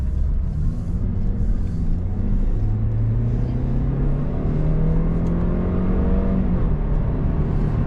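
A 2020 Lexus IS 300 accelerating in sport mode, heard from inside the cabin: a steady, loud engine rumble whose tone climbs gradually as the car pulls, with no talking.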